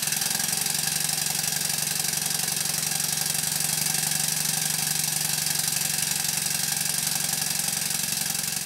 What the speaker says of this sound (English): This traction engine really runs well. Don't forget it's just a single cylinder engine.